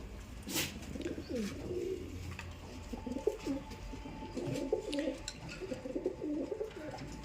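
A newly brought pair of pigeons cooing close by, soft repeated throaty coos that run in phrases over a faint steady background hum, with no talking.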